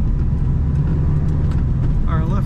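A 1978 Chevrolet Corvette pace car, the 25th anniversary edition with an automatic transmission, accelerating: a loud, steady, deep engine rumble that runs unbroken throughout.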